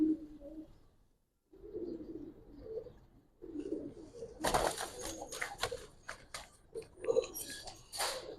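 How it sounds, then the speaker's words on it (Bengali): Low cooing of Giribaz pigeons in a loft murmurs close by, broken by a short pause, followed by bursts of flapping and scuffling noise. "মাসাল্লাহ অনেক সুন্দর কবুতর"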